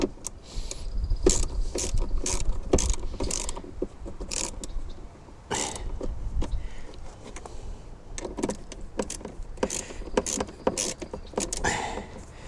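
Repeated ratcheting clicks from a ratchet tightening a battery terminal on a Husqvarna lawn tractor, coming in quick close bursts with short pauses between strokes.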